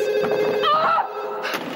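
A telephone rings in a 1999 Latvian TV drama scene, a warbling electronic ring heard close and fairly loud, pausing briefly before starting again amid a faint background tone.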